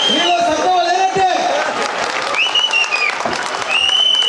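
School children applaud at a municipal high school centenary celebration, a dense, steady crowd clapping that runs throughout while a voice talks over it.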